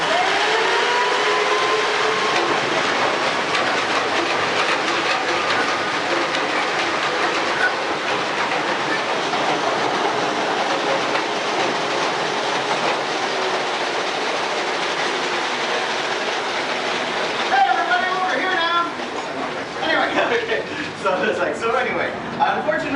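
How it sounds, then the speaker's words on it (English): Three coal mine machines run together in a mine, a loud continuous clattering roar that holds steady throughout, with a shift to rougher rattling near the end. "I'm about to turn on all 3 of these machines. They do get very loud."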